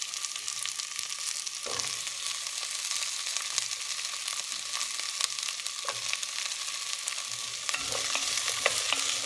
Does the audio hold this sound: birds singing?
no